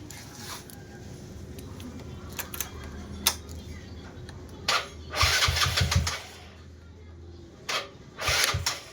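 A Yamaha Mio Sporty motorcycle fitted with a quick throttle revs in short bursts over a low idle, with two or three rising throttle blips spaced a few seconds apart, close and fairly loud.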